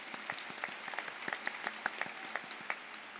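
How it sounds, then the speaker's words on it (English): An audience at a library literacy event applauds, many hands clapping in a dense, even patter that holds steady throughout. "does deserve applause"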